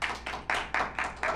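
A live audience claps in a quick rhythmic burst, several loud pulses of many hands together in close succession, fairly near and energetic, with faint voices mixed in.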